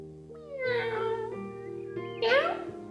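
A voice imitates a cat, giving two drawn-out, sing-song meows in a storytelling tone about baking with a dad, close and clear over a soft background drone.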